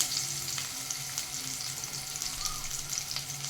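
Thinly sliced onion and a little garlic fry in two spoons of hot oil in a pan for a mushroom 65 recipe, making a steady, close sizzle that continues throughout without talk.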